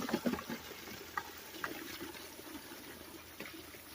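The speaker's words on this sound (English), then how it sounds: "So we'll just rinse them off." Walnuts being rinsed with water, a steady close trickle and splash of running water with small clacks and gurgles as the nuts shift about.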